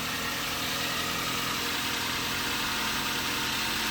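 A Toyota Avanza engine idles smoothly and evenly, a constant close, moderately loud hum with no notable vibration or changes throughout.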